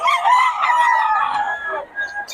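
A young rooster, a stag, crows once in a long, loud, strained call that lasts about two seconds and then trails off. No one speaks over it.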